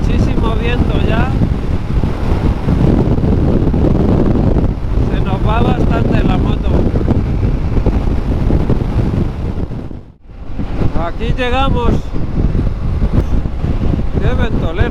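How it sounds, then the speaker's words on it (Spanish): Strong wind buffets the microphone while riding a motorcycle on Ruta 3 near Puerto Madryn, Argentina, a continuous loud broadband roar with a brief lull near the end, as a voice talks over it throughout. "Qué ventolera, por Dios"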